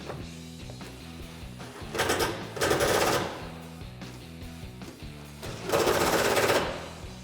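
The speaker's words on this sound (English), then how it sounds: "Then we can take a 16mm socket and tighten those up." Three short bursts of rapid mechanical ratcheting or driving as a 16mm socket tightens bed rack mount bolts on a 2005-2021 Toyota Tacoma Double Cab, close and moderately loud, separated by quieter pauses.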